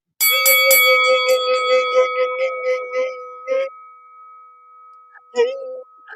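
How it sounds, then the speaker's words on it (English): A notification bell sound effect rings loud and close, with a rapid run of bright, repeated chime tones and then a long sustained ding, ending with a final short chime. "hit that notification bell, something like this"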